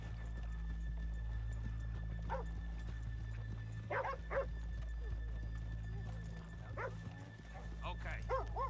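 Horses in Red Dead Redemption 2 snort and whinny a few times amid a low steady town ambience, with a dog barking now and then, fairly faint.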